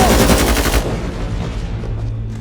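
Gunfire from an action film with a woman sniper and mercenaries, a dense burst of rapid shots that stops abruptly after under a second, leaving a low rumbling tail.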